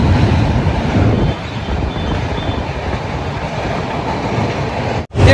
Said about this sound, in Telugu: అదిగో ట్రైన్